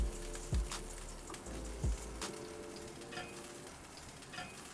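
Chicken livers fry in hot oil in a pan with a soft, steady sizzle. A few low knocks and clatters sound near the start.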